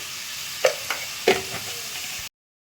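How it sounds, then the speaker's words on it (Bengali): Soybean and potato being sautéed with ginger and garlic paste in a pan, a steady close sizzle broken by a few sharp spatula knocks and scrapes, with no voices. "এবার আমি জাস্ট কষিয়ে নেব ভালো করে"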